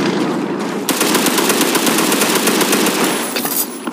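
MG30 machine gun firing in the World War Heroes video game, a loud, sustained rapid burst of shots after a brief lead-in, rattling on without pause.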